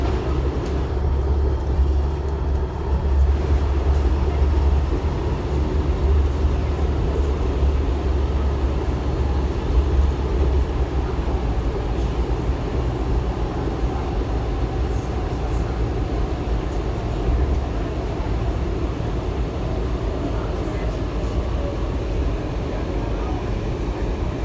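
Kawasaki metro train car riding toward Mt Vernon Square, a continuous low rumble and rattle of wheels on track steady throughout, with faint voices at times.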